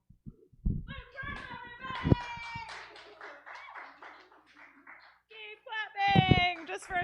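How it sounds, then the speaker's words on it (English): An audience claps at a comedy show in a short, scattered burst, mixed with talking and voices, with louder clapping near the start and again toward the end. "Keep clapping"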